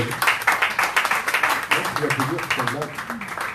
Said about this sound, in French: Et bien ça aussi, ça mérite vos applaudissements